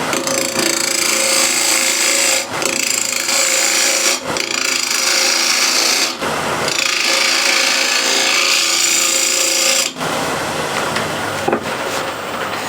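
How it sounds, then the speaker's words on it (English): A spindle gouge cuts ebony on a spinning lathe, cutting a small tenon with the lathe running in reverse, producing a loud, continuous rough scraping hiss broken by a few brief pauses as the tool lifts. "A spindle gouge again"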